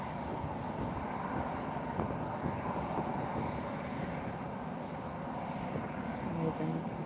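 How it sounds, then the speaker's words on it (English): A British Airways airliner taxiing at Lisbon Airport on a sunny afternoon gives a steady, distant engine rumble mixed with wind buffeting the microphone, constant in level throughout. "It's taxiing to its parking position."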